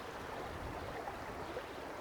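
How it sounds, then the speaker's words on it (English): The small River Bride flows down a valley, giving a steady, even rushing hiss of running water, soft and unbroken throughout. "You can hear the water."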